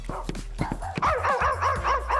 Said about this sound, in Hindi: मैं भौंक क्यों रही हूँ?